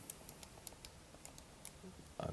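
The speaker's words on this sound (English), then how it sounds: "I'm just typing this into a calculator" Light, quick key taps on a calculator as numbers are entered, a dozen or so faint, sharp clicks in an uneven rhythm over a quiet background, with a louder rustle at the very end.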